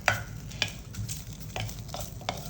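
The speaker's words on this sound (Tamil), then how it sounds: "இப்படி நல்லா அந்த கருவேப்பிலையை வறுத்துக்கோங்க" Curry leaves fry in hot oil in a pan for Chettinad kalani puli saru, with a steady soft sizzle and several sharp scraping clicks of a spoon stirring at irregular intervals.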